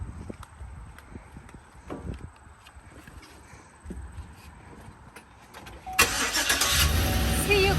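A U-Haul Chevrolet Savana moving truck's engine cranks and catches near the end, its broadband roar swelling suddenly after several seconds of quieter outdoor ambience with scattered knocks and thumps.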